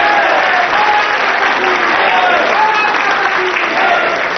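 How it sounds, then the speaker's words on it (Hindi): Audience applause from a seated crowd acting as judges at a televised public court-style interview, a dense, steady roar of clapping that fills the whole stretch without breaks, loud and close, with faint voices mixed in underneath. "आप लोग ताली बजाकर बताएं कि आपको भरोसा है योगी जी की बात।"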